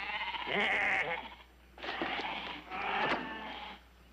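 Sheep bleat in three drawn-out, wavering calls with short pauses between them, loud and close by, with no talking.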